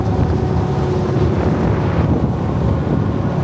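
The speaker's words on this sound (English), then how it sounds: "Oh, it's windy this side." Steady wind rumbles across the microphone, loud and constant, with a faint low hum underneath and no talking, near the Bosphorus bridge in Istanbul.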